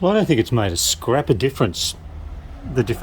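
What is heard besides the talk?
No everyday noises stand out.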